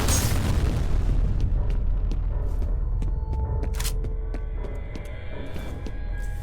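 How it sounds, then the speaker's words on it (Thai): An explosion in the video game F.E.A.R. booms loudly, then its deep rumble slowly fades while sharp clicks and small debris sounds follow. "ระเบิดไป"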